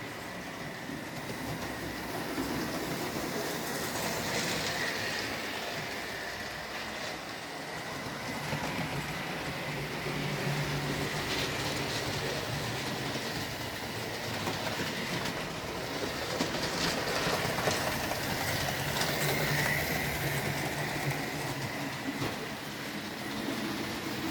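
Model railway trains, an LNER Mallard locomotive hauling three coaches and a modern Javelin, roll around a layout at Framlingham College, giving a continuous soft rumble with faint clicking of wheels over rail joints.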